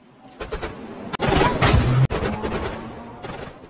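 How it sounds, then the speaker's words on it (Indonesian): Rapid bursts of gunfire riddle a car, a dense rattling volley with sharp cracks and impacts that hold steady for a couple of seconds, loud and close, broken by brief gaps. "Mereka pun langsung memberondong mobil Richard dengan tembakan."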